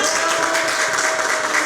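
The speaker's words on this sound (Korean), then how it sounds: "박수와" Applause from the audience at a political party press conference, a dense, even clapping that carries on loudly throughout.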